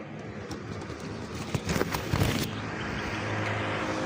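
Racing pigeons are released outdoors one by one, giving a few short bursts of wing flapping over a steady background hum.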